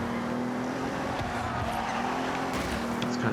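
Rear-wheel-drive AMG sports car with a V8 sliding and squealing its tires in the racing game Forza Horizon 6, a steady engine drone under continuous scrubbing tire noise, loud and close, with no talk.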